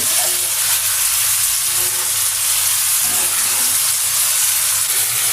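Stinging catfish and potatoes sizzle in a pan during braising as broth goes in. The sizzle is a loud, continuous hiss close by, with no break throughout.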